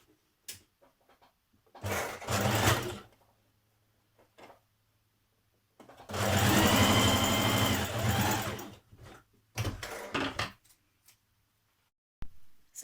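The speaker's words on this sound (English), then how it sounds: "So back tack at each side, and on the other side stitch the whole seam." A sewing machine stitches a skirt seam in short bursts and one longer run, with quick back tacks at each end and quiet pauses between the runs.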